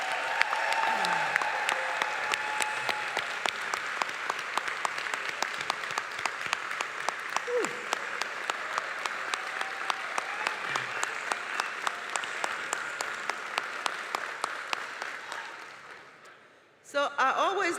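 A large audience at a Lincoln University commencement ceremony applauds two gentlemen with sustained, dense clapping that fades out near the end before a brief burst of sound, heard at a distance in a big hall.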